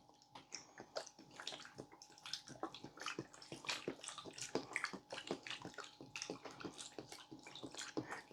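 Thirty-two ounces of beef broth pour into a large Ninja Combi pan, making a steady, close run of liquid splashing and gurgling for about eight seconds with no talk.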